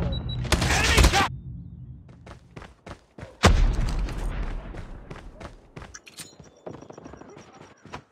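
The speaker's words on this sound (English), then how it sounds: "Grenade out!" Grenade blast in the video game Call of Duty: a loud, close boom rolling into a crackling burst, followed shortly by a second heavy explosion, with scattered gunfire and game clatter between and after.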